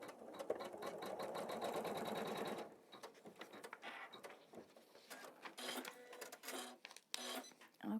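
A home embroidery machine stitches a tree design in rapid, steady needle bursts that run continuously for a few seconds, then stop and restart in shorter runs, close and clear with no talking.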